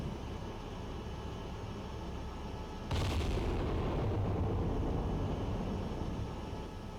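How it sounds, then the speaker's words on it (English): Naval guns fire in the Cold Waters submarine game, likely an Iowa battleship's battery: a steady low engine drone is broken by one sudden heavy blast that rolls into a louder, rumbling roar lasting several seconds. "Bridge, battery, guns engaging. Got some gunnery action going here."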